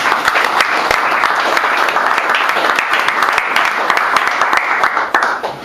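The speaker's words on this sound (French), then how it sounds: "On acclame pour la parole du Seigneur." A church congregation claps together, a dense continuous wash of applause at steady loudness throughout, with a few voices mixed in.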